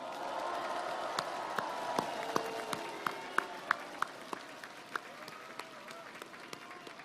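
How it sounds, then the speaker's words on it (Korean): An outdoor crowd at a March 1st presidential campaign rally in Myeongdong, Seoul, claps in encouragement, a distant, fairly faint wash of applause with some distinct sharper claps standing out near the front, and a voice is faintly heard underneath. "격려 박수 한번 크게 쳐 주십시오."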